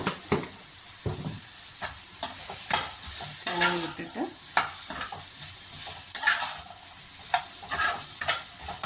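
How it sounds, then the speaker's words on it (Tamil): Okra stir-fry gets stirred in a hot pan, a spatula scraping and tossing in repeated bursts over a low sizzle, close and clear with no voices. "கிளறி விட்டுட்டு மூடி போட்டுட்டு கொஞ்சம் நேரம் வேகட்டும்"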